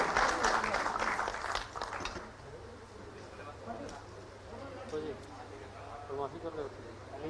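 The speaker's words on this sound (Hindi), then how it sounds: "आपकी जोरदार तालियों के बीच जोरदार तालियों के साथ स्वागत करूँ माननीय" Applause from an audience welcoming Jharkhand Chief Minister Hemant Soren at an appointment-letter ceremony, a burst of clapping that starts loud and then thins out while a voice talks through an echoing hall.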